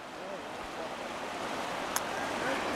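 Shenandoah River rapids rushing over rocks, a continuous broadband wash of water and wind roar close to the microphone, with a brief sharp tap near the end.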